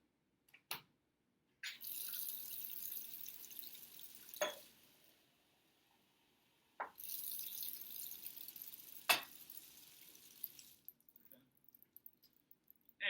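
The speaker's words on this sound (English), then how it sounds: "I'm going to add some water to my 600 milliliter beaker" Water poured into a 600 mL laboratory beaker, two separate bursts of splashing pour, each a few seconds long, with short clinks and drips between and after, close and fairly quiet with no talking.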